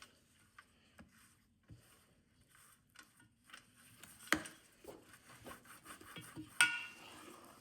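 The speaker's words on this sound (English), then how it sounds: "Make sure you butter the sides too," A cake pan is buttered on its sides, giving soft rhythmic scraping and light taps of a utensil against the metal, punctuated by two sharper clinks, all fairly quiet and close.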